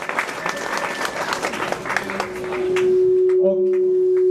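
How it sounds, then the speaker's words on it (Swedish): Warm applause from an audience at an outdoor Red-Green party leaders' political rally in Växjö, dense clapping that fades out and gives way to a steady droning tone near the end. "En riktig supervarm applåd."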